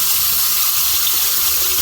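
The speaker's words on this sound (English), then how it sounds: "so pour some water in." Water pours steadily into a container close by, a continuous hissing gush.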